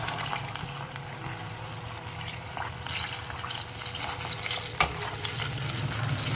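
Chicken karahi frying in a pan as yogurt goes in, a steady close sizzle and bubbling with occasional stirring scrapes, no voices.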